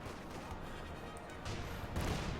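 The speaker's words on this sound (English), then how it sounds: "we got a Cromwell now firing at his Volk squad" A Cromwell tank fires in the video game Company of Heroes 2, with two heavy booms roughly half a second apart over a rumbling battlefield background, moderately loud.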